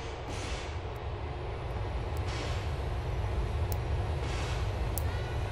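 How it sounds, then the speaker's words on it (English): In Grand Theft Auto IV, an LTA Rail train rumbles past at a moderate distance, a continuous broadband roar with faint metallic clicks, steady throughout and without voices. "A train's there."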